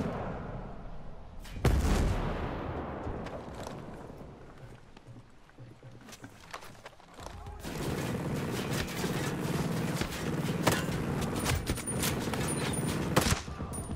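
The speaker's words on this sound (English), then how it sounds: "This mortar hits." Mortar fire in the video game Ghost Recon Breakpoint, heavy booming impacts and rolling explosions with a loud blast early, then a sustained barrage of thuds and crackling detonations, fairly close.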